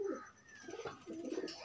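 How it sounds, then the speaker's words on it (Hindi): Soft, low pigeon cooing, a couple of rolling coos close by but quiet, with faint ambient noise. "कबूतर"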